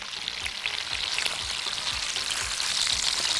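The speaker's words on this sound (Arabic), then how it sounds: "بدات الفراخ تحمر اهي." Chicken pieces fry and brown in a hot pan, a dense, continuous close sizzle with scattered popping spatters throughout.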